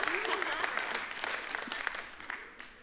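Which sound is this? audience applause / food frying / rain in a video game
audience applause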